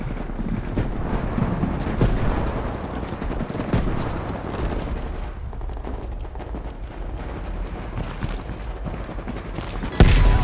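Firefight in a Call of Duty Cold War video game mission, with dense bursts of automatic gunfire and heavy blasts rolling continuously, loud and layered, with a sharp close burst near the end.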